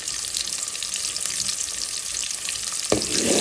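Bay leaves fry in hot oil with a loud, dense, continuous sizzle, close up, and a brief knock near the end.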